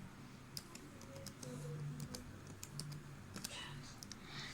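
Soft, irregular clicks of a computer keyboard as a new password is typed, quiet and close, with a faint low hum underneath.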